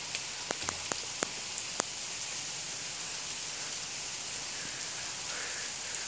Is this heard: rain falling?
yes